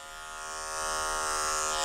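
Electric clippers buzz steadily through a matted Shih Tzu's face during a full shave-down by a groomer, a close, continuous hum that grows slightly louder and holds alone without talk.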